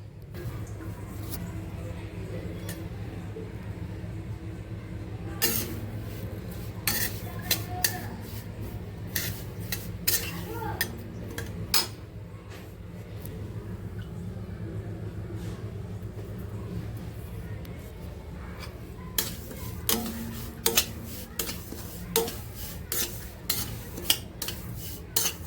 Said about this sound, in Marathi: त्याच्यात साधं तूप घालून मी त्याला चांगलं गोल्डन कलर येईपर्यंत भाजून घेणार आहे